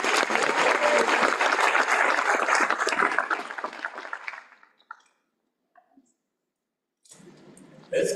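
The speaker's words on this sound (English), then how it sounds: "I think we can give Dr. Sarai a round of applause" A graduation ceremony crowd bursts into dense, loud applause for a speaker that thins and fades out over several seconds, leaving near silence before another round of clapping starts.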